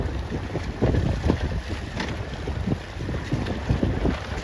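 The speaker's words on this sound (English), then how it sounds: "This is like choppy 12 to 14, 15 knots actually, windiest part of the day." Strong wind buffets the microphone aboard a C420 sailboat racing on choppy water in 12 to 15 knots. Irregular gusts and slapping chop come loud and close.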